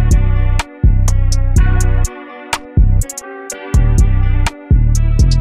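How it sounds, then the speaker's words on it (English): A simple hi-hat pattern from an FL Studio trap beat. Crisp, evenly spaced hat ticks run over a loud, sustained bass and synth loop that cuts out briefly a few times, with no voices. "So I just had this crazy simple hat pattern"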